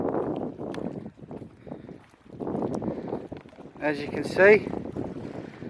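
Gusty wind on a rocky shore on the Eyre Peninsula buffets the microphone with a low rumble beneath someone talking close by.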